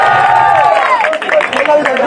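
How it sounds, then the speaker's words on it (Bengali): Audience at a Chhatra League anniversary gathering clapping and cheering for a press club president, a dense patter of hands mixed with crowd voices, loud and close. "ভাইয়ের জন্য একটা হাততালি হবে কি?"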